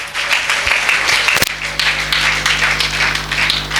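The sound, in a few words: congregation applauding in church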